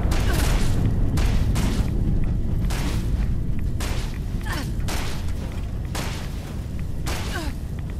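A robot firing at the player in Fallout 76, with booming shots repeating in rough bursts over a loud, dense rumble of game noise.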